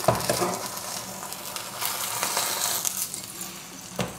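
An egg fries in a pan with a steady, close hiss and crackle of sizzling, and a brief scrape near the end as it is flipped.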